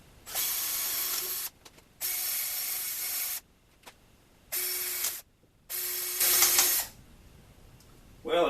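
An electric drill whirs through wood in four sustained runs of a couple of seconds each, separated by short pauses, loud and close, as the bit hits screws while boring holes for lag bolts.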